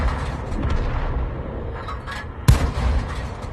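A tank gun firing in the World of Tanks video game, with one sharp booming shot standing out over continuous battle rumble and engine noise.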